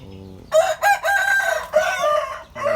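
A rooster crows loudly and close by, a long strained call broken into several bursts, following a brief softer clucking at the start.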